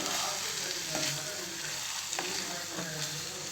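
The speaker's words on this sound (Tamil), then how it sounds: "இது நல்லா ஃப்ரை பண்ணி எடுத்துக்கலாம்" Broccoli and egg fry together in a pan, a steady close sizzle with soft periodic scraping from stirring, moderately loud and continuous.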